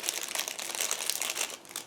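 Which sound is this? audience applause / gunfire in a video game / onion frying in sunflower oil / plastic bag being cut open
plastic bag being cut open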